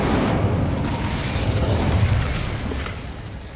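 Fiery spell blast from the Incendio fire charm in Hogwarts Legacy, a loud, dense burst and whoosh of flame that holds for a few seconds before tapering off, alone without voices.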